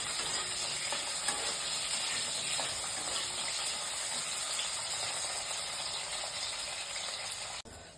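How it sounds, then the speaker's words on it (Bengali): Potatoes frying in oil in a pan give a steady, close sizzle with faint stirring scrapes as they are turned over, continuing evenly for several seconds before a brief cut near the end. "তো আলুগুলো এবার উল্টো পাল্টা করে"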